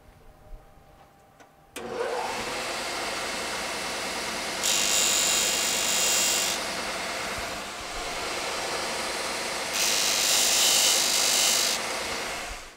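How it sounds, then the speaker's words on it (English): Wooden guitar side struts for a steel-string acoustic are ground down on a disc sander, with a steady motor whir and two longer bursts of loud abrasive rasping as pieces are pressed against the disc. "I'm going to get them sanded to size here on the disc sander"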